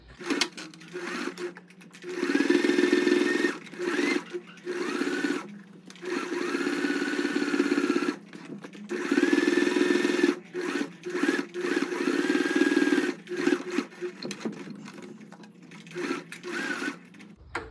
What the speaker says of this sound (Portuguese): E a gente vai na máquina costurar